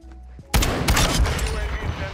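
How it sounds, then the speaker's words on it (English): Underbarrel shotgun fire in a video game: after a brief quieter moment, a loud close blast hits, followed by a dense run of rapid shots and explosive bursts. "My underbarrel shotgun."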